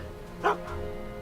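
Einstein the dog from Back to the Future: The Game gives a single short bark, close and moderately loud, over a quiet background hum.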